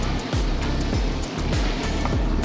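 Rain-soaked road splashing under an Ola S1 Pro electric scooter, a continuous wet hiss with rhythmic whooshing surges as tyres cut through standing water, loud and close.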